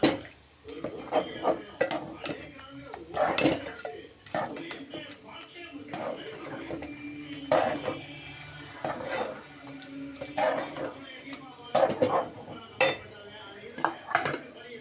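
A spoon scrapes and clinks against a pan while ground coconut is stirred into chicken gravy, irregular close knocks and scrapes repeating throughout.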